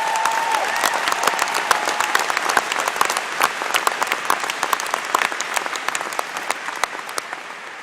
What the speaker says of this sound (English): applause for being here tonight.